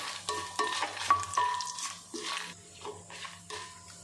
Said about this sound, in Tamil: பட்டை ஒரு மூணு துண்டு பெருசாக இருந்தால் மூணு துண்டு சிறுசாக இருந்தால் ஒரு நாலு அன்னாச்சிப்பூ ரெண்டு கிராம்பு ரெண்டு ஏலக்காய் இது எல்லாமே சேர்த்து நல்லா வறுத்துக்கலாம்